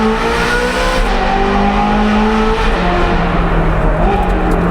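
A Ferrari 430 Scuderia engine revs hard in second gear and steadily climbs in pitch, loud and continuous, with a brief dip as the gear changes near the end.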